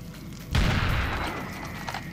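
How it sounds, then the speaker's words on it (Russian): In the video game Serious Sam 2, a sudden loud explosion booms after half a second of quiet room tone, then a rumbling tail slowly fades. "Эй, ну не взрывайся рядом со мной."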